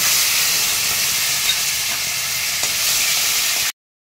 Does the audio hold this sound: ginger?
yes